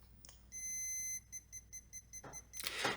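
A steady high-pitched electronic battery-check beep from an Olympus OM40 35mm film camera sounds, then continues as a series of short pulsing beeps, faint and close, ending in a brief rustle.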